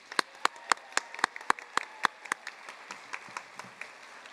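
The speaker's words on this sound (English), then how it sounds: "Please join me in one more round of applause for our doctoral graduates" Scattered applause from a commencement audience for doctoral graduates, a thin crowd clapping in sharp, distinct claps that taper off over a few seconds in a large hall.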